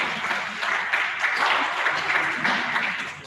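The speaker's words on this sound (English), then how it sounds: "Please have a big round of applause for him." Audience applause at a university lecture event, a steady wash of many hands clapping throughout, fairly loud and close with no talk over it.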